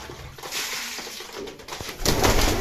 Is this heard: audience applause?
no